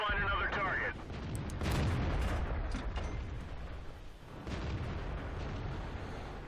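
ARL V39 tank destroyer firing in World of Tanks, a single heavy cannon blast that booms and rumbles as it decays, followed by lingering battlefield noise and a spoken voice.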